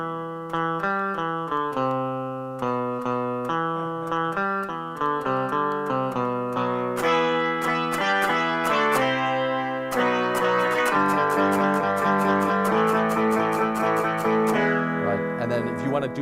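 An electronic MI Guitar set to an electric guitar sound plays quick picked melodic notes that build into dense, rapid strummed chords, bright and fairly loud throughout.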